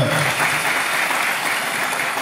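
A wedding-hall audience at Şelale Düğün Davet Salonu in Sultangazi, Istanbul, claps steadily in a dense, even burst of applause without talk.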